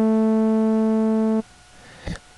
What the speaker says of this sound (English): the sawtooth wave